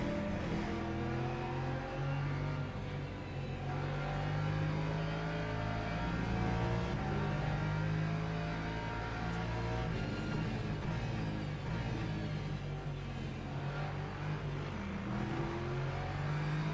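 LMP2 race cars in a racing video game set at Monza and Portimao drone with a steady, dense engine roar, their layered revs rising and falling continuously throughout without pause.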